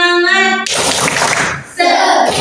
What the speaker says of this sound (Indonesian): Supaya lebih semangat lagi, kita tepuk semangat yuk